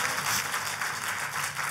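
A church congregation applauds in a sustained wash of clapping from many hands. The sound is even and moderately loud throughout, with a slight rise at the very end.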